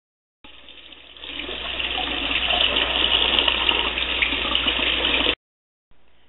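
Apples being rinsed under a running kitchen tap, a steady, close stream of water splashing continuously for about five seconds before cutting off.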